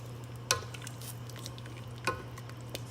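Potatoes cook in water in a pot while a spoon stirs them, making a few sharp clinks against the pot over a soft continuous bubbling hiss and low hum, close and fairly quiet.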